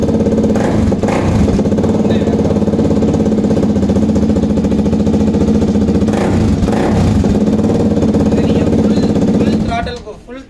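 A customized KTM RC 200 motorcycle with an underbelly silencer runs steadily and loudly near the listener, holding a rough idle with slight revs for about ten seconds before cutting off. Voices talk faintly underneath.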